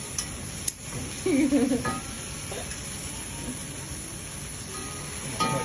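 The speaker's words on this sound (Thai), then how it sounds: "ผัดให้มันเข้ากันนะคะ" Garlic being stir-fried in a pan gives a faint background hiss, with a brief burst of scraping and sizzling as the spatula moves, then quieter frying.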